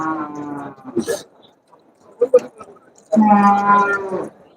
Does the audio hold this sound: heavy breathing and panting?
no